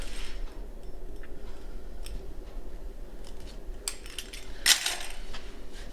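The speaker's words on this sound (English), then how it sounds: "I'm using a pizza wheel to cut it" A pizza wheel rolls through a sheet of puff pastry on paper, dividing it into four squares; soft, faint scraping cuts with a sharper tick near the end.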